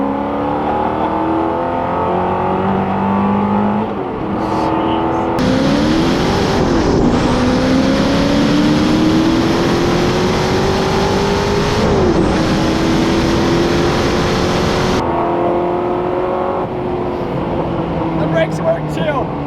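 A Hennessey Venom GT, a manual-transmission hypercar, accelerates at full throttle. The engine roars loud and near and climbs steeply through several gears, with brief dips at the shifts, and excited voices can be heard over it.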